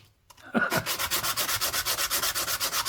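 Sandpaper rubs over a copper two pence coin ring in fast, even back-and-forth strokes, a close, rhythmic scratchy rasp repeating about six times a second with no speech.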